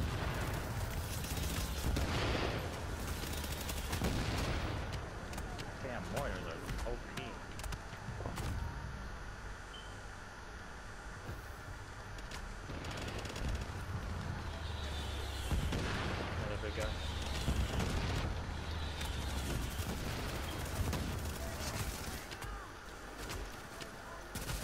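Gunfire in The Division, dense volleys of shots and booming impacts coming in waves, loud and close, with a continuous combat din between bursts.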